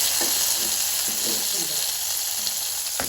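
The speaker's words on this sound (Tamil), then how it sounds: "இரண்டு இரண்டு தக்காளி போட்டு கிளறுவோம்" Tomatoes being stirred in a hot frying pan for an egg and potato milk curry: a steady, bright sizzle throughout, with soft scraping stir sounds breaking through now and then.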